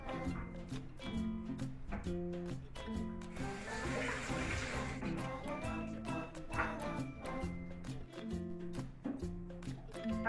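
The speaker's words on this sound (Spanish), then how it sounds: "Antes de empezar con nuestra receta es imprescindible lavar las frutas." Fruit being rinsed under a running tap for a fruit salad, with a steady wash of flowing water that swells in the middle, under a continuous tonal musical background.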